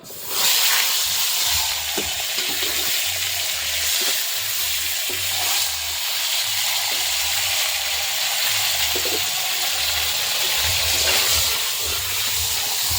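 A fish head fries in hot oil for a Bengali jackfruit dish, giving a loud, steady sizzle and hiss with soft scrapes and knocks of stirring throughout.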